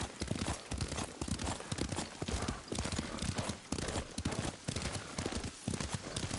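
Rapid clip-clop of horse hooves at a steady gallop in the video game Ghost of Tsushima, loud and close, continuing without pause and with no voices.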